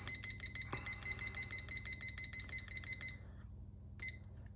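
Kitchen timer set for a sourdough wholegrain sandwich loaf in the oven, ringing as a rapid, evenly pulsed electronic beeping for about three seconds, then falling quiet before one short final beep.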